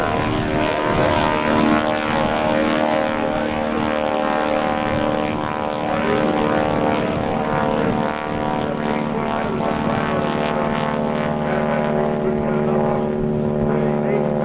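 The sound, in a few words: aerobatic airplane engine climbing to altitude at airshow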